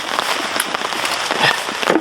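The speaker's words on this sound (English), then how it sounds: "as you can probably hear, the rain is coming in" Rain patters on the tent and gear at a wet, windy solo wild camp in the U.K., a soft, irregular spattering of drops, fairly close and moderately quiet.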